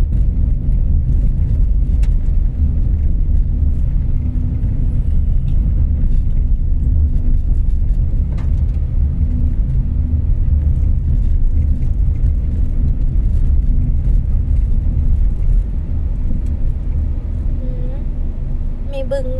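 A car travels a winding mountain road in Thailand's Khlong Lan area, its engine and road noise forming a steady, close, low rumble throughout while people talk inside the cabin.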